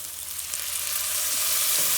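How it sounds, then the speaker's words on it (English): Vegetable stock hisses and sizzles as it deglazes a hot pan, a steady bright crackle that swells slightly, heard up close with no voices. "I am just going to deglaze with a little bit of vegetable stock"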